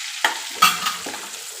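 Whole spices (curry leaves, dried red chilli, bay leaf, cinnamon, cloves and peppercorns) stirred in hot oil, a few quick scraping strokes with a soft sizzle, close and brief.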